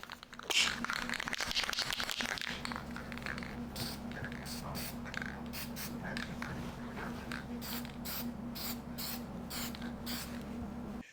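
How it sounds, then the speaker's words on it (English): A brief hiss of lacquer from a spray can starts up, coating an old spokeshave, then soft crinkling and rustling follow with scattered light taps, quiet and close. "now I am going to spray it with a little bit of lacquer."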